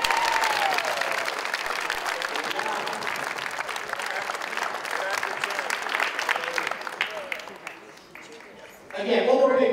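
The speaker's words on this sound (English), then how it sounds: "one more big round of applause" Sustained applause from an audience at a Math 24 tournament for a fifth-grade contestant, dense clapping throughout that thins near the end before a louder burst returns.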